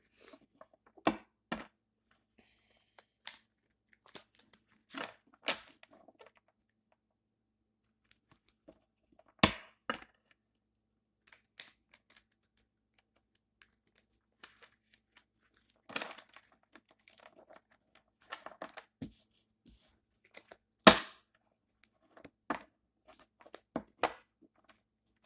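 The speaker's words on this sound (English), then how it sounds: "Give a little shuffle." Tarot cards being shuffled by hand in sparse, irregular bursts of crisp snapping and riffling, quiet and close, with long silent gaps between handfuls.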